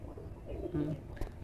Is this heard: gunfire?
no